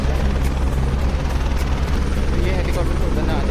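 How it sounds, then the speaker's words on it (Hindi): A helicopter at the Kedarnath helipad idles or lands with a steady, loud rotor and turbine roar filling the whole stretch, close by and unbroken, with voices faintly mixed in. "तो ये हेलीकॉप्टर से उतरने वाले हैं, बहुत जल्दी जल्दी में नहीं उतार रहे।"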